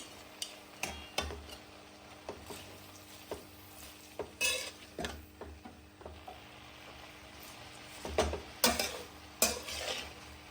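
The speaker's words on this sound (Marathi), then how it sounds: "ही मुगाची डाळ घालून भिजलेली त्याच्यावर तर ते आपण मिक्स करून घेऊ सगळीकडे" Soaked moong dal being mixed into green onion (kanda pat) bhaji in a pan, with repeated stirring scrapes of a utensil and light sizzling, close and alone without speech.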